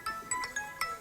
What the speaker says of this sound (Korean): 늘 끄던 전화기가 내가 안 꺼져서 지금 울었었네